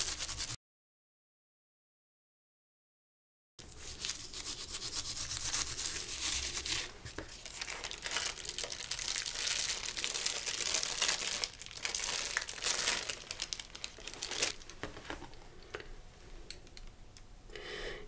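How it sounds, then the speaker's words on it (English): Tissue paper being crinkled and handled on a gel printing plate, a steady close papery rustle with soft crumpling after a brief silence at the start. "Okay, this is tissue paper."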